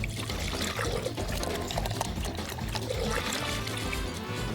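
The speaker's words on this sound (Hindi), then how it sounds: "अब हम छोटे कंटेनर को पानी से भरेंगे।" Water pours steadily into a small container with a continuous splashing trickle, close and fairly loud, for a few seconds.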